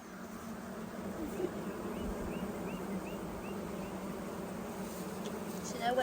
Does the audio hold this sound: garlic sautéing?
no